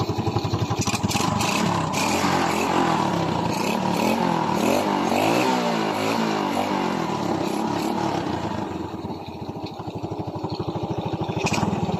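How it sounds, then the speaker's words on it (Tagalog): A Honda XRM 110 motorcycle with a battery-drive 4-pin conversion runs nearby, its small engine putting out a steady, loud, close-up idle with a slight fluctuation in pitch near the end. "paandarin natin ng kuli ang kanyang motor"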